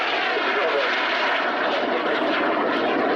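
Jet Provost jet trainer performing at an air display, a steady broad roar of its engine sustained throughout with no breaks, fairly loud and continuous, while talk can be heard under it.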